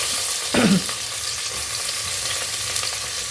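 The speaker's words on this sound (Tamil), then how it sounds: "இப்போது எண்ணெய் சூடாயிடுச்சு. இதில் நம்ம ஃபஸ்ட்டு நம்ம வெங்காயம் போட போகிறோம்." Two onions sizzle steadily in hot oil for soya chunk biryani, with a brief clatter of stirring near the start over the continuous crackling fry.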